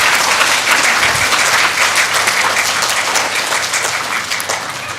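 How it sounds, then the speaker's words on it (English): Schoolchildren in a school assembly for quarterly pride awards applaud loudly, a thick, sustained roar of many small hands that stays steady and eases slightly toward the end. "So boys and girls, you can give a round of applause."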